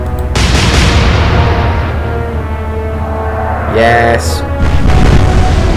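Naval guns fire a salvo in the Atlantic Fleet video game, a loud, heavy boom that rolls out over several seconds with a rumbling tail and a second surge near the end, while someone speaks briefly over it.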